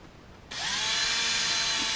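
A power drill drives an extra screw into the wall of a Camp EZ teardrop trailer, starting abruptly after a quiet moment and then whirring at a steady, loud, close pitch with no voices.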